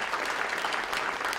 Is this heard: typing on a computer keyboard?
no